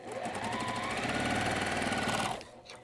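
A sewing machine stitches small quilt fabric pieces, running in one steady, fast, close-up whir for over two seconds before stopping abruptly.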